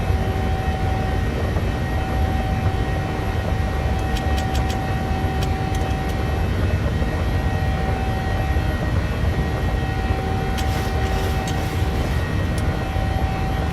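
Airliner engines at takeoff power in Microsoft Flight Simulator, a Ryanair flight out of Leeds Bradford: a loud, steady jet roar with a sustained whine runs throughout, unbroken and alone.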